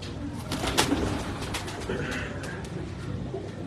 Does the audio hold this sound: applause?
no